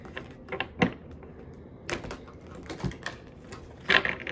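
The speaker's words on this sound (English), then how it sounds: "Let's pull two oracle cards out first and see what comes out." Oracle cards are shuffled and pulled during a reading, making scattered crisp snaps, flicks and soft riffling clicks at close range, separated by brief quiet gaps.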